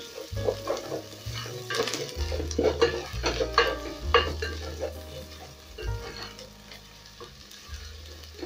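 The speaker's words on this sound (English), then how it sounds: "Then I'm going to cook that for about a minute till the ginger is fragrant." Ginger sizzles and fries in a pan for a potato and pumpkin curry, with steady close crackling broken by repeated stirring scrapes and light clinks of a utensil against the pan.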